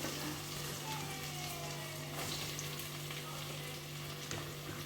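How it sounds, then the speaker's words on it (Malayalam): Chopped onions fry in hot oil for ghee rice and chicken masala, a steady, fairly quiet sizzle with faint stirring scrapes and a low hum underneath. "ഉള്ളി വഴറ്റി നമുക്ക് നന്നായിട്ട് ഇതിനെ നമുക്ക് വഴറ്റാം"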